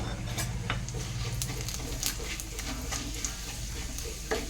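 Dried chilli, bay leaf and cumin sizzle and crackle in hot mustard oil, with a continuous frying hiss broken by sharp pops and stirring clicks, no talking.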